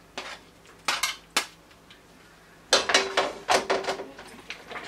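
Plantains are added to a pot of Guatemalan mole sauce, heard as scattered clinks and scrapes of a utensil against the pot, several sharp hits early and then a quicker cluster of taps, close and fairly loud.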